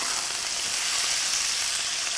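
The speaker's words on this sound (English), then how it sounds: "This frying now, wow." Fried rice sizzles in a hot pan, a dense, steady crackling hiss that is close and loud throughout, with no voices.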